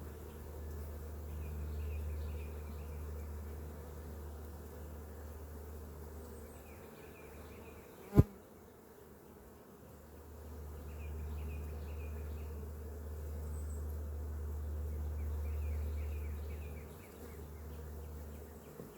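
Honeybees in an opened beehive make a steady, close droning buzz that swells and fades across the whole stretch, with a single sharp knock partway through and no talking.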